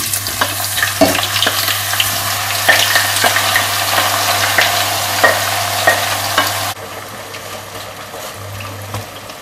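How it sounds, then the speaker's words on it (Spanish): Potato pieces frying in a generous amount of oil for a Spanish potato tortilla, giving a steady loud sizzle with stirring clatters and crackles throughout, dropping to a quieter bubbling in the last few seconds. "vamos a empezar por poner la patata en"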